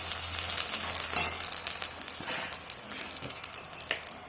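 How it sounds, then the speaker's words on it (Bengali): Ground chana dal paste frying in oil in a wok gives a steady, close hiss and sizzle with occasional stirring scrapes throughout. "কড়াইতে তেল দিয়ে তার মধ্যে বেটে রাখা ডালটা দিয়ে দিলাম"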